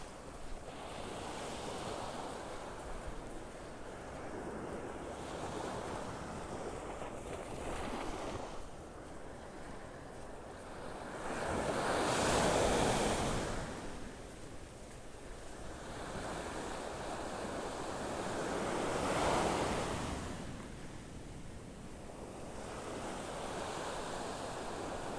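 Surf rolling onto the beach at North Naples, Florida in the early morning, a steady wash of waves with two louder breaking swells and light wind buffeting the microphone throughout.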